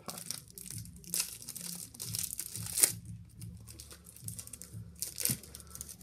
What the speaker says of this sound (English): let's open the first pack